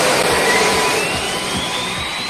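Goldorak spaceship taking off, a loud steady jet-engine roar with a rising whine, continuous and close throughout.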